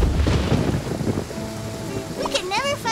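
Cartoon rain pours steadily through a forest scene while thunder rumbles low, and a character's voice briefly speaks over the storm near the end.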